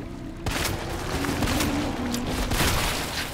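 Magnum revolver fire from Resident Evil 2 Remake, played as Leon: roughly three heavy, sharp shots about a second apart, loud and close over a dense game backdrop.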